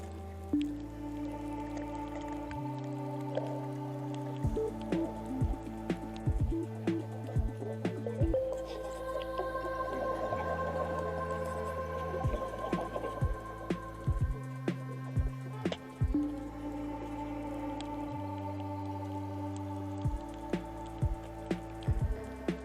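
A diver blows air bubbles underwater while swimming with whale sharks, sardines and turtles off Cebu, Philippines: repeated bubbly gurgling bursts and dripping pops over a steady low underwater hum and droning tones, with no talk.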